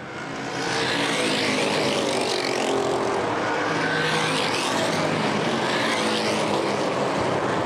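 Street stock race cars roar around Winchester Speedway, a dense continuous engine drone swelling in after a brief quieter start and holding loud and steady as the pack passes.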